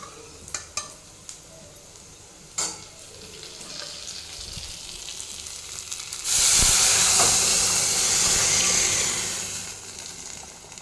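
Tempering for green gram kadaiyal, with onions fried in a pan: a few utensil clicks and taps lead into a sudden loud, close sizzling hiss that lasts a few seconds and then slowly fades.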